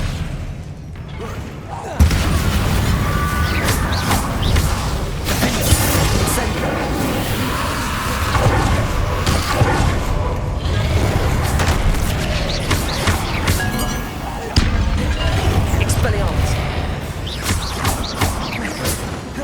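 Incendio and Confringo spells blast during a fight with Inferi in Hogwarts Legacy, a loud, continuous run of fiery booms and crackling bursts with sharp restarts, overlaid by game sounds and intermittent spoken incantations.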